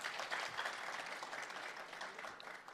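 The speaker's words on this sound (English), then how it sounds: "A big round of applause for all those who contributed today." Conference audience at an annual university gathering applauding, a faint, distant wash of many hands clapping steadily throughout with no talk over it.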